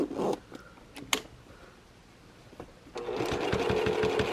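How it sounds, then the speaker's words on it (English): A sewing machine topstitches beside a zipper on a tote bag, starting with a few clicks and handling noises, then settling into a steady close rhythmic stitching hum for the last second and a half. "I'm going to top stitch about 1/8 of an inch away."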